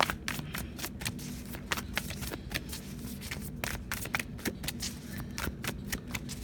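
Tarot cards being shuffled by hand before drawing an advice card, a steady stream of soft riffling slaps and flicks lasting several seconds, close and fairly quiet with no talk.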